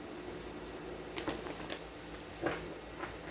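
Tarot cards are shuffled by hand, a few quick riffling and snapping bursts around the middle of the clip, close and soft against a steady hiss of room noise, without speech.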